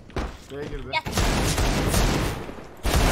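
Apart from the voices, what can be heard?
gunfire from a shooter video game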